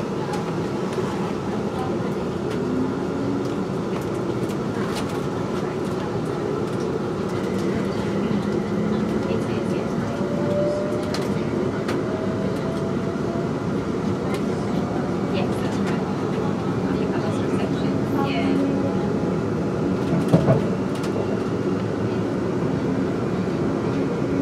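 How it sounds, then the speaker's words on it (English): Interior of a London Northwestern Railway Class 350 electric train pulling out of Birmingham International on a service to London Euston: a steady rumbling roll with rising motor whine and faint rail clicks, one brief knock near the end. "We're now leaving Birmingham International."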